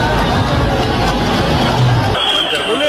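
A dense crowd at night as police charge it with batons near a border, a loud continuous hubbub of many voices shouting and chattering close by.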